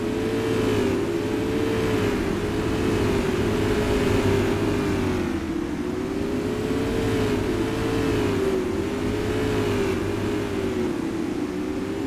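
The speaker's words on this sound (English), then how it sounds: "Season ending race for the Goldcrest Wing Supermodifieds." Supermodified race cars in a sim racing game at Madera Speedway roar continuously around the oval, engine pitch rising and falling in a steady looping rhythm, loud and unbroken.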